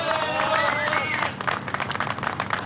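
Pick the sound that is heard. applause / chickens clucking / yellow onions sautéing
applause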